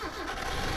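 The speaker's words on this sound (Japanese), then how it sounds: "30キロ走行でエンジン音に変化はあるか。" A Mitsubishi Lancer EX Turbo engine drones steadily while the car drives at 30 km/h after an oil change and an additive treatment, a constant mid-pitched hum heard briefly and alone.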